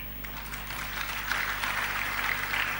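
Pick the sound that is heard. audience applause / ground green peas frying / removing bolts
audience applause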